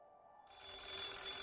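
A telephone bell rings loudly and steadily after a brief quiet start, a bright continuous electronic trill with no voices over it.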